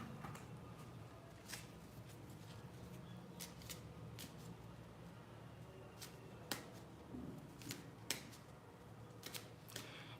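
Tarot cards being shuffled close up in a quiet room, soft repeated riffling with crisp snaps and flicks at uneven intervals, faint and alone.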